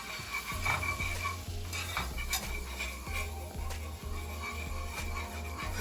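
Flour being stirred into a sizzling pan to build the roux for a baked macaroni and cheese sauce, with steady scraping strokes repeating in an even rhythm over a continuous frying hiss, close up and with no talking.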